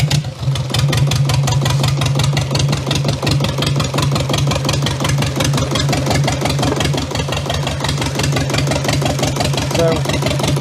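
The engine of a Jabiru light aircraft, brought back into service after restoration, idles at about 700 rpm with a loud, steady, rapid mechanical chugging that runs evenly throughout.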